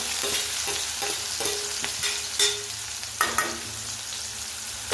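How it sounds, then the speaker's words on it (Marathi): A medium onion with mustard seeds and asafoetida fries in a pan for curd upma, a soft steady sizzle broken by scraping spatula strokes and a few sharper clinks, close up with no talk. "माझ्याकडे कांदा आहे, एक कांदा मीडियम साईजचा, तो व्यवस्थित परतून घ्यायचा."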